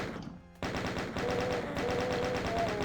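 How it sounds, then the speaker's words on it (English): Rapid chaingun fire from chaingunner enemies in DOOM, a dense sustained rattle of shots close and loud after a brief quieter lead-in, with a thin whining tone running beneath the later bursts. "There are chain gunners above us to the left and the right."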